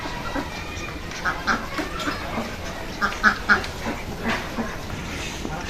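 White crested ducks on a small farm quack in repeated short, nasal bursts that overlap into a fairly close, continuous chatter under steady outdoor background noise.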